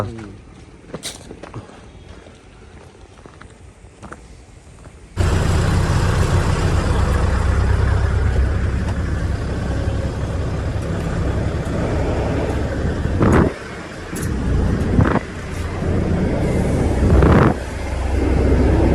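A bus engine runs at a bus stand in Ooty, starting as a quieter rumble and then swelling into a loud, steady, close drone with a few brief knocks and bumps on top.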